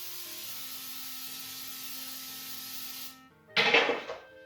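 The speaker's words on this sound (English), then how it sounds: "what I use is just Pam olive oil spray" Pam olive oil cooking spray hisses steadily from a close can onto a pan for about three seconds, then a short clatter as the pan is handled.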